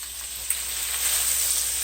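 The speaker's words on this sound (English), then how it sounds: "I sauteed these zucchinis in there" Zucchini sautéing in oil and juices left from ground beef seasoned with soy sauce, a steady close sizzle and hiss running evenly throughout with one small clink near the start.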